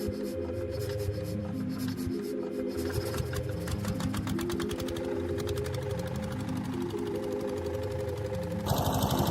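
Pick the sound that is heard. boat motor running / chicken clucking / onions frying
boat motor running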